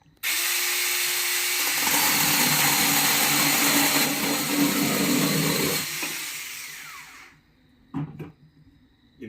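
A battery-operated mini chainsaw cuts with a loud, steady buzzing whine for about seven seconds, then cuts out, leaving a few faint knocks and clatters nearby.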